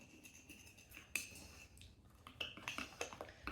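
Quiet scraping and gritty clicking as a tool stirs thick modelling paste and gesso in a container, with irregular scratchy strokes growing busier toward the end.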